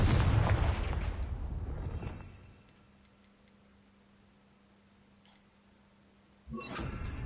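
An explosive Confringo spell blast in a video game, a loud booming burst that rumbles for about two seconds and decays into a quiet hum, then a second sharp blast lands near the end.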